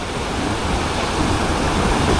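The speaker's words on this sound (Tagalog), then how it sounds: "Dito po ay bagsakan ng tubig." Steady, loud rush of water pouring down a waterfall into a wide river, a continuous broadband roar with no voices over it.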